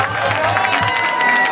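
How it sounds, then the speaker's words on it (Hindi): Audience applause with cheering at a cultural programme for a police ASI executive batch at RTC Arakkonam, a dense, steady wash of clapping and crowd noise lasting throughout. "एक बार फिर से जोरदार तालियां"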